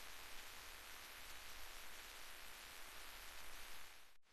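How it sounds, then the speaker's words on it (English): Steady rain falls at night as a dense, even hiss that holds unbroken for several seconds before cutting off abruptly near the end. "Let's listen to the rain together."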